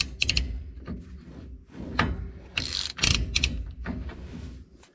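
Axle nuts on the rear axle of a 1980-1996 Ford F250/F350 pickup being tightened to preload the bearings, with close ratcheting clicks and metallic scraping and clanking in uneven bursts.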